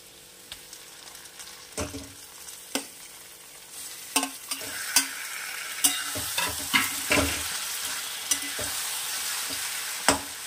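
Boiled brinjal sautéing in a hot pan with a continuous sizzle, punctuated by repeated sharp clinks and scrapes of a spoon stirring against the metal, close and growing busier, no voices.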